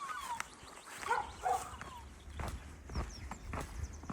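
A dog barks a few scattered times at a distance on a hiking trail in the Azores. Footsteps and outdoor background noise come and go between the barks.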